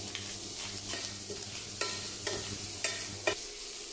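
Garlic prawns frying in a pan with crushed pepper, a steady close sizzle with a few sharp clicks of stirring and scraping.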